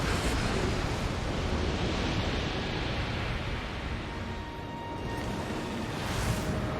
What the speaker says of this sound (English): now you do need to just respect these tidal waves